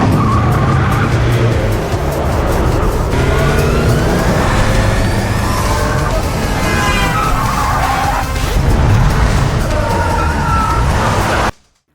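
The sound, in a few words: cars racing in a car chase, film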